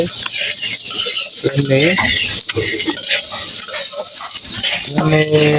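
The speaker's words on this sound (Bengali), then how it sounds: "সকাল সকাল দেখতে পাচ্ছি এখানে পপকর্ন ভাজি করছে" Popcorn roasting in a pan in a home kitchen, with scraping, rattling and quick pops near and fairly loud, and some metallic clinks throughout.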